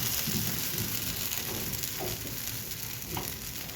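An onion dosa made from Balamrutham flour fries on a pan with a soft, steady hiss of sizzling at low volume, continuous and without speech.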